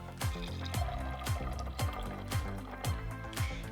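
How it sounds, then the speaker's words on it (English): Gazpacho made with tomato and celery is poured carefully into glasses, giving a liquid splashing, filling sound with a series of repeated soft pulses, close and fairly quiet, with no talking. "I'm going to carefully pour our gazpacho soup into our"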